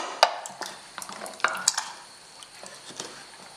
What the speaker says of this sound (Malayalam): നന്നായിട്ട് ഒന്നുകൂടെ ഒന്ന് ഇളക്കി മിക്സ് ചെയ്ത് കൊടുക്കാം.